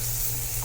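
Peanut butter sizzling and burning onto a hot frying pan in a vegetarian taco-meat one-pot dish, a steady close hiss with a low hum underneath.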